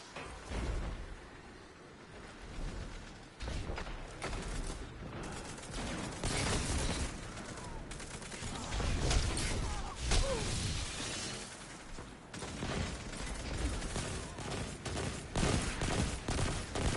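Burst-fire weapon shots in the Destiny video game ring out as quick, repeated clusters of sharp reports. Whooshes and mechanical clicks sit between them, all fairly quiet overall.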